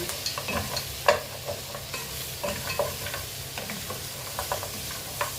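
Kansi, a beef shank soup, being stirred in a pot, with steady scraping and stirring clicks over a soft sizzle that continues throughout, fairly close and without talk.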